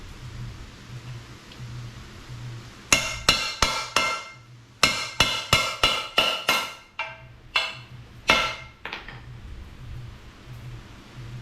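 A backwards-turned socket hammers a part into the short block of a Yamaha JN6 gas golf cart engine, producing about a dozen sharp metallic taps in quick irregular bursts, close and loud over a quiet room, with no speech.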